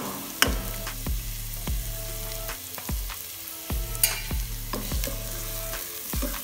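Chopped capsicum and carrots frying in a pan for fish soup, with a loud close sizzle and repeated rhythmic scraping as a spoon stirs the vegetables.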